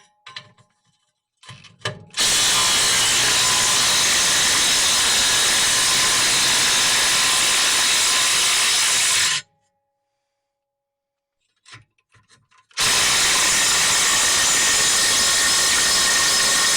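Loud, continuous power-tool whirring in two long bursts separated by a pause, with faint clicks and rattles around them, while removing the exhaust clamp on the middle section of a Chevrolet S10 exhaust.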